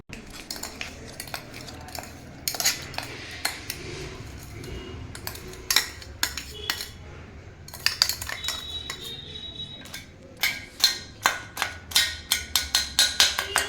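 A metal spoon scrapes and taps against a steel pan while loosening a sticky homemade dry fruit sweet mixture, giving sparse clinks that build into a rapid run of sharp metallic knocks near the end.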